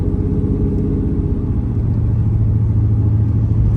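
A cammed LS-swapped Pontiac Trans Am with a freshly installed exhaust idles in a deep, loud, choppy rumble, steady and close for the whole stretch with no talking.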